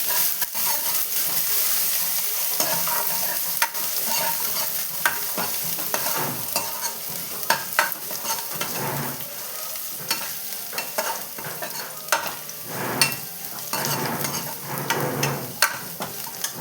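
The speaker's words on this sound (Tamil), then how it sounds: "இப்போ சேர்த்து இதை வதக்கிக்கலாம்" Dried red chilies and garlic sautéing in a pan for kollu rasam, a continuous close sizzle with frequent scraping and clinking stir strokes at an irregular rhythm, no voices.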